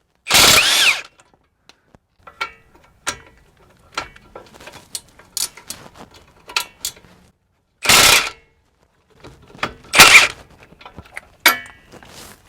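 Loud bursts of a power tool, most likely an impact gun, spinning off a 22 mm strut nut on an Acura RSX front strut, each burst followed by lighter clicks and clinks from tools and parts.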